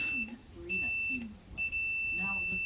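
A high electronic tone from a continuity tester beeps on in two steady stretches while someone talks over it close by, checking a Williams D8359 power supply circuit board.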